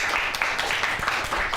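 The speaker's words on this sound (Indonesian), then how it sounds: "tepuk tangan untuk Satya" A live show audience gives applause to a guest named Satya: a moderate burst of many hands clapping, fairly close, with some voices murmuring underneath.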